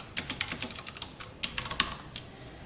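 Typing on a computer keyboard, a run of quick uneven clicks and key taps at close range with brief pauses, no talking.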